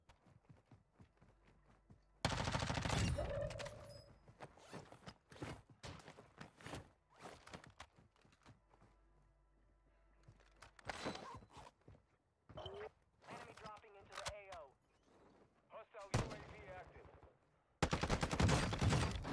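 Gunfire in Warzone 2.0 comes in loud bursts and rapid strings of shots, broken by quieter gaps with footsteps and shuffling, and a voice talks briefly between volleys.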